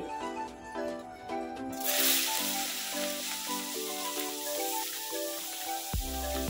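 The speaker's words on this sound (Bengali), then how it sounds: "চিংড়ি মাছের মধ্যে নুন হলুদ মাখিয়ে নিয়েছি, এবার দিয়ে দেব তেলের মধ্যে" Prawns coated in salt and turmeric drop into hot mustard oil and burst into a loud, close sizzle that keeps hissing steadily, while music plays underneath.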